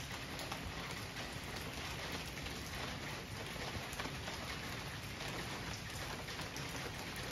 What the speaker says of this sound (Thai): ฝนตกแต่เช้าวันนี้